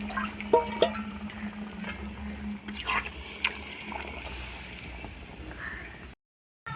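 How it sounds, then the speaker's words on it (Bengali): Hot water poured into a simmering chicken and potato curry gives an uneven sloshing and bubbling with a few sharper splashes, then cuts to a brief silence near the end. "এবার গরম জল দিয়ে দেবো।"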